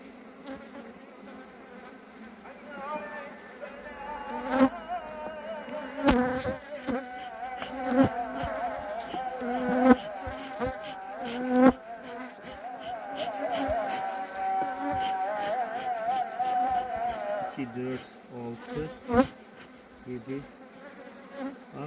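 Honey bees buzz steadily around an opened, strong beehive during the honey flow, a close, continuous droning hum with individual bees whizzing past the microphone now and then.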